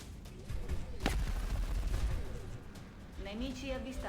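Gunfire from the turn-based strategy game XCOM Long War, with a sharp shot crack followed by a rumbling burst, set against game ambience and a voice talking.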